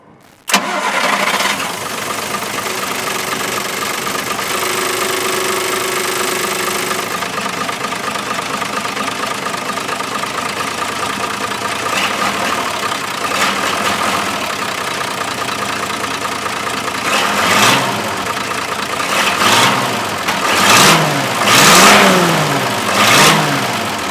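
Mercedes O302 bus diesel engine cranking and firing into a steady, loud idle that runs for a long stretch, then several deep revs swell and fall near the end.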